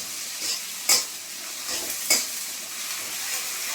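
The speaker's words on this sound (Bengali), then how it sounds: "পেঁয়াজ কাঁচা লঙ্কা একটু ভেজে নেবো ভালো করে।" Onion and green chili frying in oil in a pan, a continuous sizzle with a couple of sharp utensil scrapes against the pan as it is stirred, no one speaking.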